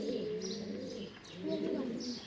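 Native doves cooing in a small group, soft low repeated coos overlapping steadily, close by, with brief higher chirps above and no talk.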